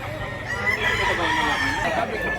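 Roosters crow and chickens cluck close by at a busy poultry market in Mantalungon, Barili, Cebu, with overlapping calls filling the air and faint voices in the background.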